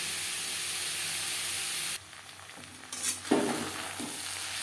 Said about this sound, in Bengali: মশলা ও পেঁয়াজের সাথে আলু বেশ ভালো করে মিক্স করে দেবো